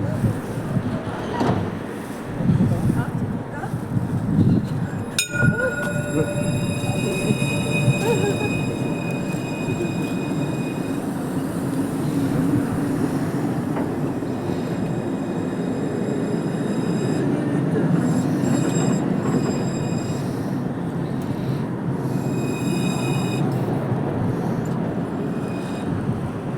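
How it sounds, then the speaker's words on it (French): A TAM tramway in Montpellier pulls away from the Mosson terminus, its electric drive humming with a rising whine and rumble over steady station ambience, with a sharp clack early on and someone talking at times. "et il y a déjà quelques voyageurs à bord de cette tram. Il va partir."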